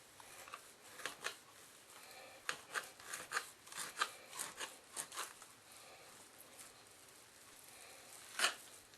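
A knife slices a pork butt into roughly one-inch pieces on a cutting board for tasso ham, producing a run of short, close rasping cuts with brief pauses, then a sharper single stroke near the end.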